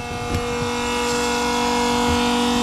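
A Vevor diesel transfer pump on a 58-gallon transfer tank runs with a steady, close electric motor hum and a few faint knocks and rattles along the way, and no one speaks.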